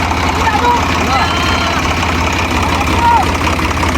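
A tractor engine idles steadily, a loud, continuous low rumble that neither rises nor falls, with faint voices mixed in underneath.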